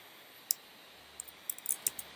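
Computer keyboard keys click in a sparse, light pattern: one isolated tap, then a quick cluster of several presses, close and quiet against a faint background hiss.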